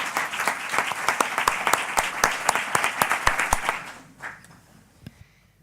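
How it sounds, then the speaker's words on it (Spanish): Audience applause at an academic ceremony, a dense run of close, sharp handclaps that tapers and dies out after about four seconds, leaving near silence. "Le damos un fuerte abrazo, un fuerte aplauso"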